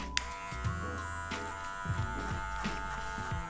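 An electric hair clipper fitted with a number 2 guard buzzes steadily while cutting hair for a simple fade, a close, constant motor hum with small shifts in pitch as it moves through the hair.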